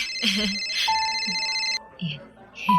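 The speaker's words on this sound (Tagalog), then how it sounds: "yung cellphone mo nagre-ring" A cellphone ringtone plays a bright repeating electronic melody, fairly loud and close, then cuts off abruptly as people talk over and after it.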